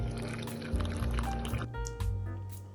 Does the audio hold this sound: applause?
no